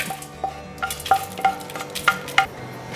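Whole spices, including cardamom, stirred in a dry pan: a spatula scrapes and taps the metal in irregular strokes over a faint, low sizzle, with no voices.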